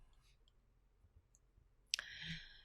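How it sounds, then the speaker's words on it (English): A computer mouse gives a single sharp click near the end, after quiet room tone, followed by a brief low rustle. "I'm going to just click on any company"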